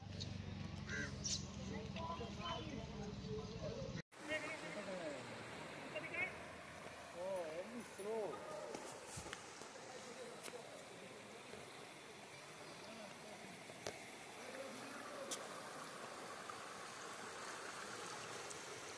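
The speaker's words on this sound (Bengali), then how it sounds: "দেখো, এটা একটা ওয়াটারফলস," Waterfall and rushing stream at a dam site near Daringbari, a steady broad wash of flowing water throughout, with people talking over it and a brief handling bump near the start.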